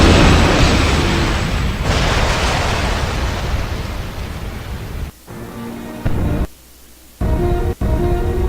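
A big, loud blast from a shot in the 007 Blood Stone video game roars and rumbles for a couple of seconds, then decays into game noise with abrupt cuts and near-silent gaps.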